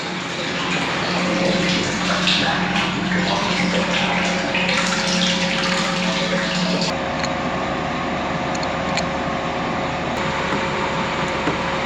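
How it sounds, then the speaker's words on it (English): Liquid draining out of the bottom of a farm sprayer tank, a steady loud rushing gush that drops to a thinner, lighter flow partway through, close by with no talking. "Trying to get it where I can drain all that stuff out of the tank"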